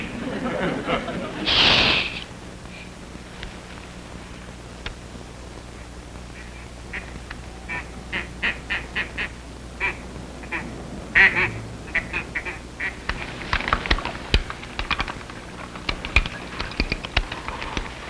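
Ducks quack in short bursts across a scene, with an early loud burst and later scattered quacks mixed with tapping sounds and talk.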